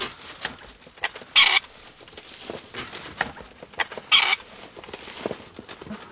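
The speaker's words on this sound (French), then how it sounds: "13 perdrix sont mises dans la cage et 2 autres lâchées dans la nature" Partridges being loaded into a cage, thirteen of them, give off soft clucking calls with two louder bursts of fluttering and scuffling close by, over a busy outdoor background with no talking.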